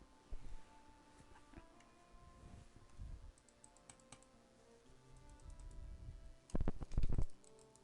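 Fast, steady typing on a computer keyboard at close range, with a denser burst of clacking keystrokes near the end, while setting up mouse and keyboard input to play Valheim.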